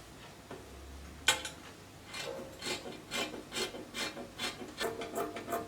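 Scissors cut through dress fabric in a steady run of short rasping snips, close and fairly soft, starting after a brief thump and continuing rhythmically to the end with no talking.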